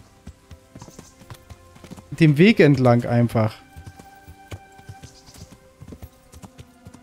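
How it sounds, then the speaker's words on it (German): Rapid, rhythmic horse hoofbeats clop steadily throughout in the video game Kingdom Come: Deliverance, with someone speaking briefly in German over them in the middle. "Und dann reitet das Pferd nämlich von alleine"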